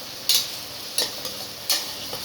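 Ginger garlic paste hitting hot oil in a pan for mushroom biryani, with a soft steady sizzle and three or four sharp stirring scrapes spaced about a second apart.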